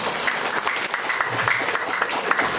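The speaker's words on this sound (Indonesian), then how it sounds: "Sekali lagi kita berikan aplaus" An audience at an indoor training event applauds continuously, a dense, even clapping that stays loud and close throughout.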